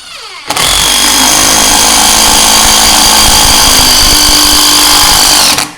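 A Dewalt Atomic 20V brushless impact driver sinks a big screw into bare wood, starting abruptly and running as one loud, steady whirring hammer that holds for about five seconds before cutting off.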